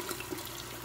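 Red wine pours from close by onto sautéed braising vegetables for beef short ribs, a brief, continuous splashing trickle heard alone.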